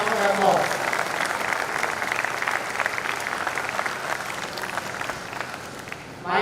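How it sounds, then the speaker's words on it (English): Sustained applause from a large audience at a university convocation ceremony, dense and loud clapping that runs steadily for several seconds before tapering slightly. "Please welcome her with a round of applause."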